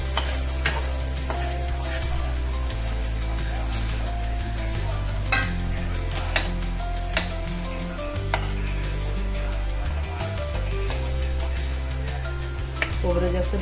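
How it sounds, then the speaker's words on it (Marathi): Grated coconut dry-roasting in a pan for Khandesh-style shev bhaji, stirred continuously with rhythmic scraping strokes over a soft sizzle, up close, with no talking. "याला साईडला करून घेऊ आणि खोबरं भाजून घेऊ"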